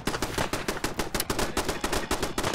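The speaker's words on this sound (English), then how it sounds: "Oh, it's shooting at me." Rapid automatic gunfire in Fallout 4, a dense string of close, loud shots in quick regular rhythm lasting the whole moment, with no talking over it.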